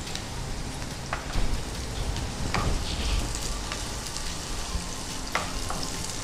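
Okra with capsicum and curry leaves frying in a pan, a steady close sizzle with crackles and scattered pops, now and then a stirring scrape, and no talking.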